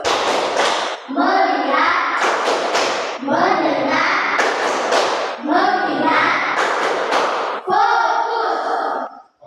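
Children in a classroom clapping in rhythmic bursts with a chanted call, sharp hand claps and thumps repeating in a steady pattern, voices speaking the chant between the claps.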